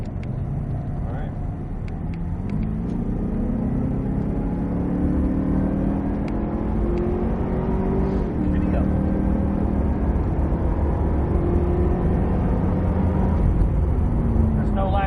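A Cadillac CTS-V pulls hard on a race track, its engine note climbing through long rising sweeps that stay close and loud, with people talking over the roar.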